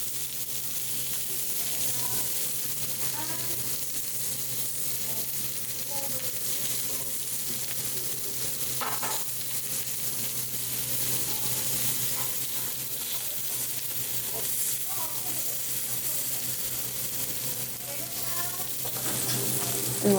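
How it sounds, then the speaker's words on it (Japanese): Fresh raw lamb sizzles steadily in an iron pan for Zao-style Genghis Khan grilled barbecue, a continuous close frying hiss with faint clinks and soft background voices. "新鮮な生ラム肉を鉄鍋で豪快に直焼きし"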